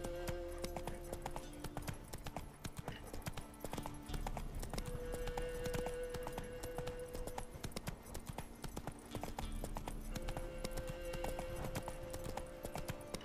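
Roach, a horse in The Witcher 3 video game, clip-clops along in a steady continuous hoofbeat rhythm over faint ambient game sound, with brief tonal game music elements.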